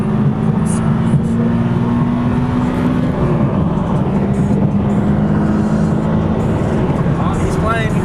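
A Ford Mustang passing by, a loud steady engine roar close up, with a faint rising whine near the end.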